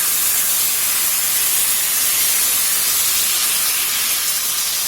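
Rice batter for chila hits a hot, oiled griddle and sizzles into a dense, steady hiss. It is close and fairly loud, constant throughout, with no talking.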